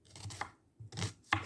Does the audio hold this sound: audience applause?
no